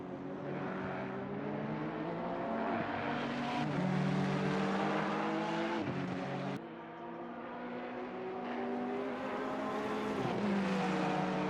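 Race cars in a sim racing game at Zolder, a Honda closing on a Ferrari through a chicane: steady high engine drone with rising and falling revs through the gears, a brief dip around a shift, loud and continuous with no talk.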